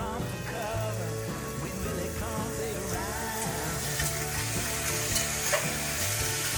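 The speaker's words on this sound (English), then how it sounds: "Hear the sizzle? Hear the sizzle." Pork searing on high heat in a Dutch oven, a constant close crackling sizzle that runs unbroken, with faint kitchen clatter under it.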